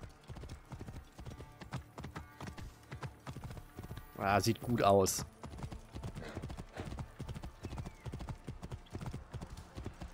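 Steady clip-clop of horse hooves in Assassin's Creed Origins, a continuous rhythmic trot close by, with a man's brief spoken remark and a short louder burst partway through.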